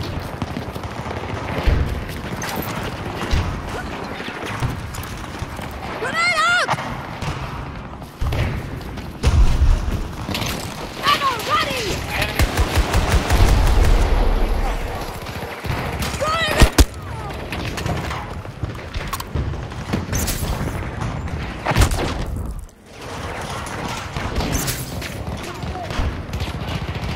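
Battlefield video game combat with a grenade blast and heavy gunfire, dense bursts of automatic shots, booms and thuds layered with game effects and occasional voices over about half a minute.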